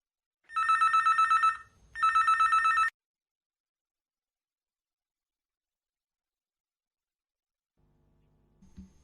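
A telephone bell rings twice in loud, close bursts for an incoming caller to a radio show, followed by a long silence and faint low rumble at the end.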